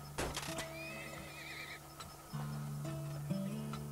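Horses whinny repeatedly in the Turmoil oil-drilling video game, shrill neighs standing out over steady game background tones, with clip-clopping hooves and no talk.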